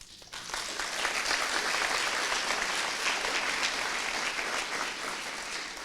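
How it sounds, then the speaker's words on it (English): Audience applause at an awards ceremony, a sustained full round of clapping that swells quickly and holds steady, a large crowd heard alone without talk. "you deserve a round of applause for that"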